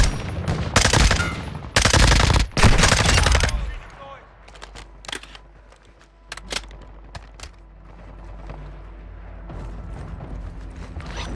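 Loud, rapid automatic gunfire bursts in Call of Duty: Modern Warfare II dominate the first few seconds, then give way to scattered mechanical clicks, rattles and distant shots over a low rumble.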